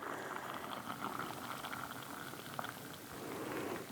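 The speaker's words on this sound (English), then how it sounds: "take boiling water and fill in the cracks" Boiling water poured from a kettle into a jar of ground beef gives a steady, soft liquid hiss and gurgle that runs unbroken throughout, faint and close, with no talking.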